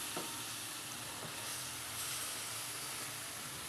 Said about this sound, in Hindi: अच्छी तरह से चम्मच चलाते रहेंगे, साथ साथ इसको मिक्स करते रहेंगे।